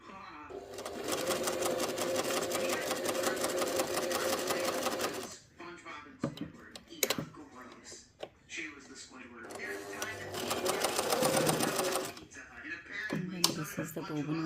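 A German-made Pfaff 360 heavy-duty sewing machine stitches in two long, steady bursts of close, loud motor whir and needle clatter, separated by a quieter stretch with clicks and handling.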